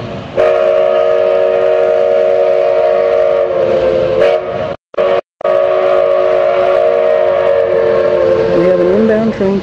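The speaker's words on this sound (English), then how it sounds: "Train coming right now." Durango and Silverton steam train arriving, its long sustained whistle blasting loud and close over rumbling rail noise for several seconds, briefly cutting out midway, then continuing with a lower tone near the end.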